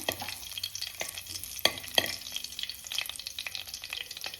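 Cumin seeds roasting in hot oil for paneer bhurji, a quiet crackling sizzle with scattered small pops and a couple of sharper spatula taps.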